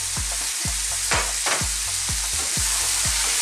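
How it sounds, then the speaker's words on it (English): Fresh tomatoes sizzle in a pan with mushrooms for a mushroom and pea curry, a constant bright hiss overlaid by a regular beat of soft low knocks, about two per second, close and fairly loud. "At this point, I'm going to go in with some tomatoes, fresh tomatoes."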